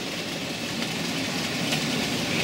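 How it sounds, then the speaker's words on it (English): A model County class steam locomotive on a layout, pulling empty private owner wagons, producing a steady continuous running rumble with faint rail clatter, close and even in level, with no voices. "I've now got a 3rd steam train running, which is the county class"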